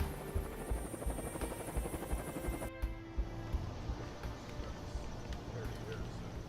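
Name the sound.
Marine One presidential helicopter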